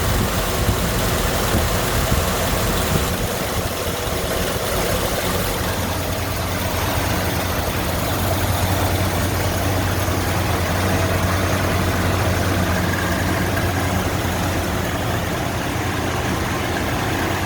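A 1952 Ford F3 dump truck engine idles steadily with a rough, even rumble that holds at a constant loud level throughout.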